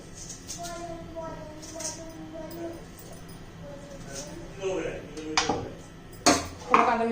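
A knife cuts Totapuri raw mango into pieces in a home kitchen, giving scattered sharp clicks and taps of blade on board and dish, louder strikes near the end, under faint talk.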